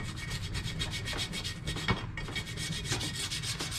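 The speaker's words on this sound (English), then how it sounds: "I'm not trying to scratch the living tar out of this, I'm just trying to get the majority of the gunk off from it." Rough, repeated scraping and rubbing strokes as oily gunk is cleaned off a truck part in a shop, a steady rasping rhythm close up with no talk.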